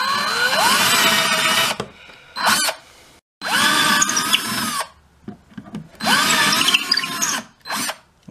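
A power drill bores through a wooden guitar neck in three loud, sustained bursts of whirring, each winding up and down, with short quiet gaps and light handling clicks between.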